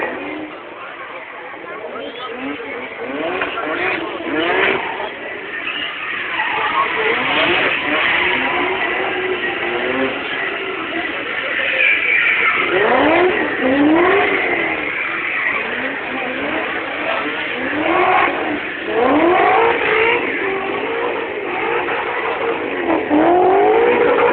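Rally cars racing on a park track near Stara Zagora, engines rising and falling as they rev and accelerate at a moderate distance, under near-continuous commentary.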